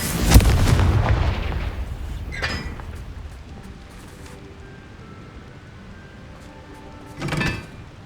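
Confringo fire spell explosions in Hogwarts Legacy, a loud booming blast at the start, a smaller burst midway and another muffled boom near the end over a low ambient rumble.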